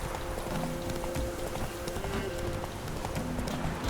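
Hoofbeats of Roach the horse in The Witcher 3, a steady galloping clip-clop under dense ambient game noise with a faint tonal hum running through.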